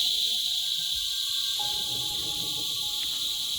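Crickets on Siquijor keep up a dense, continuous high-pitched chirring that drowns the surroundings, with a faint low rumble and thin whistling tones beneath it.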